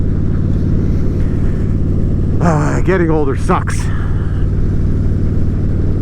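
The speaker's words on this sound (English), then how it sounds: "I think I'm in the wrong gear, going around a corner, cavaltating the engine, getting some ridiculous vibrations." A vehicle engine lugs in the wrong gear through a corner, producing a loud, steady low rumble with strong vibration that persists throughout while someone speaks briefly over it.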